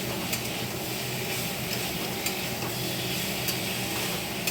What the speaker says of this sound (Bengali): এই যে আলু সয়াবিনটা ভাজা হয়ে গেছে